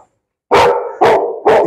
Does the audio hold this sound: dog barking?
yes